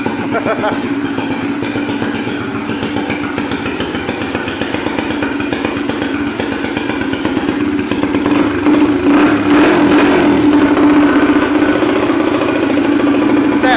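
A Honda XR80 motorcycle engine runs with a loud, uneven burble, idling steadily and picking up slightly toward the end.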